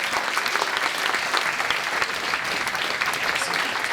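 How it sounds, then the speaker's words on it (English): Steady applause from a conference audience welcoming a speaker, a dense even clatter of many hands clapping throughout, with no talk over it. "Please round of applause."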